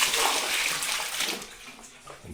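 Water runs steadily from a tap in Laos, a continuous broad splashing rush that stays fairly loud and even throughout, with no talking.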